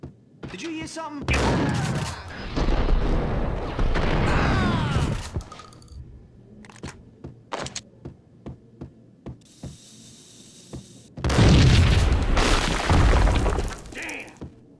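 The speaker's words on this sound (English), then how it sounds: "I thought it was a bomb for sure." Max Payne video game scene: a long, loud rumbling blast with crackling debris, then scattered sharp impacts and a hum, then a second heavy roaring burst; game voices talk faintly in between.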